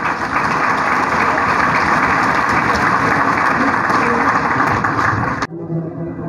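Loud, dense applause from an audience welcoming guests at an oath-taking ceremony, steady for about five seconds and then cutting off abruptly to near silence.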